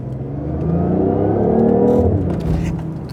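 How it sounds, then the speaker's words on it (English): Synthetic engine sound piped into the cabin of a BMW i8 in sport mode swells as the car accelerates, a rising mid-pitched hum that peaks and then eases off, heard from inside without talk. "you get some fake sound actually piped into the interior."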